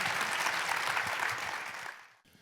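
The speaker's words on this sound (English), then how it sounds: "Big round of applause, folks." An audience at a film festival evening at a performing arts centre gives a brief burst of dense, steady applause that fades out after about two seconds, with no speech over it.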